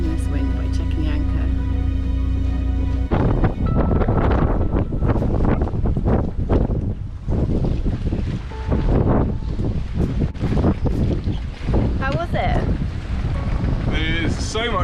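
Strong wind roars across the microphone on a boat riding at anchor in choppy water, loud and continuous, with a faint rigging tone at the start and no clear talk.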